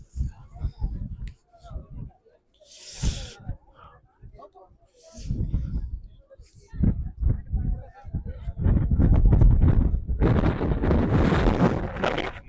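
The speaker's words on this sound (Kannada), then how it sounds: "ಆ ರೇಂಜಿಗೆ ದೂಡ್ತೈತೆ ಗಾಳಿ" Strong wind buffets the microphone on the Mullayanagiri hilltop, with loud gusty rumble building toward the end, heard with people talking throughout.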